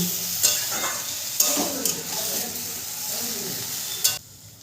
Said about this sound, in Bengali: হলুদ গুঁড়োটা দিয়েও আমি ভালো করে মিশিয়ে নেব।